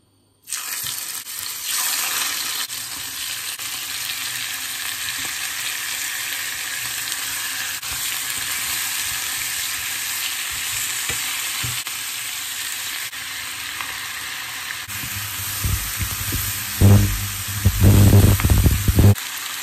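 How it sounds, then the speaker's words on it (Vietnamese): Chicken pieces frying in hot oil as the first step of a chicken curry, giving a loud, steady sizzle that swells into sharper crackling bursts near the end, with no talking. "mình sẽ cho dầu để mình chiên sơ gà trước"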